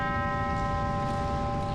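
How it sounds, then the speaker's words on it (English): A church bell chiming inside a sanctuary during a memorial service, a sustained, ringing tone with steady overtones that hangs and echoes in the room throughout, moderately loud over a low rumble. "a moment of silence before 9 chimes, one for each of them, echoed through the sanctuary"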